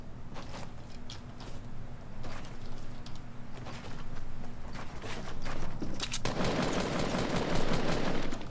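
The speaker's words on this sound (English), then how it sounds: "I think he had the new shotgun." Gunfire in the Fortnite battle royale video game, a steady run of rapid sharp bursts over a continuous game soundscape, growing denser and louder toward the end.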